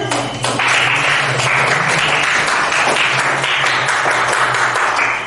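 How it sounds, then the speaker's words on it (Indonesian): A group of people at a school claps steadily and loudly, a dense, continuous burst of hand clapping lasting several seconds, with a low hum running underneath. "Oke, tepuk tangan."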